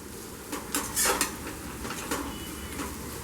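Metal spoon scraping and clinking against a pot while beetroot pulao is stirred, a few bright scrapes and taps close up over a steady low background hum.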